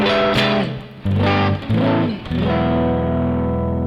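Electric guitar through a drive pedal with a gritty overdriven classic rock tone plays several sustained chords and notes, ringing out with a bit of reverb.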